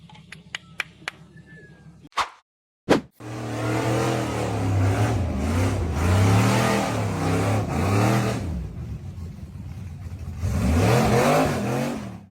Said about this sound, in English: The blue buggy accelerated hard up the steep sandy slope.